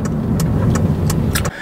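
Honda Civic Si, 8th generation, with a VTEC engine, heard as a steady, loud engine drone with a strong low rumble and no talking, cutting off abruptly just before the end.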